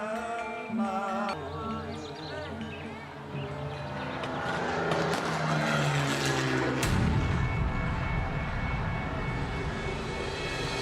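A propeller warplane roars overhead as a stage sound effect at a school drama about Dutch troops attacking Jogja, a loud droning engine swelling into a heavy rumble and rushing noise under music.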